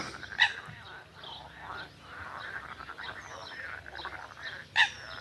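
Frogs croaking by a marsh near the shore on a spring day, a faint chorus of scattered croaks with a couple of sharper calls standing out, heard outdoors at a moderate distance.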